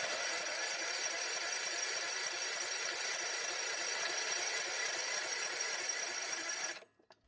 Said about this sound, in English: I want to try and use my jump pack on it to see if the starter still works